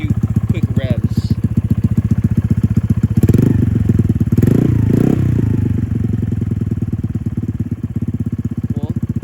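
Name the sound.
motorcycle exhaust engine revving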